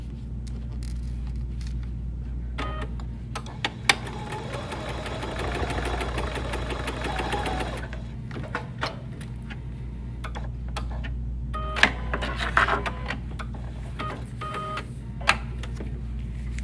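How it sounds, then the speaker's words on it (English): A sewing machine stitches a small seam on a fabric key fob pouch, running in a fast, even whir of needle ticks for about five seconds, framed by scattered handling clicks and taps in a quiet room. "And sew that little seam together."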